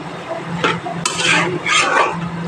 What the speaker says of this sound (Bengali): এইভাবে খুন্তি দিয়ে নাড়াচাড়া করে একটু ঘেঁটে দিতে হবে।